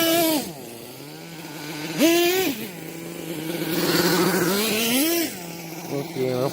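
Kyosho Mad Force RCX Edition nitro RC monster truck engine revving and bogging through repeated high-pitched throttle bursts, loud and close, rising and falling in pitch as it drives.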